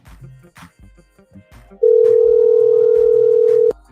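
A steady electronic telephone tone sounds loud and unbroken for about two seconds, preceded by faint background murmurs and clicks.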